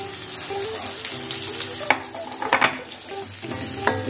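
Salted jambal fish and green chilies sizzle in hot oil as a utensil stirs them, with a steady fry hiss broken by a few sharp scraping clacks.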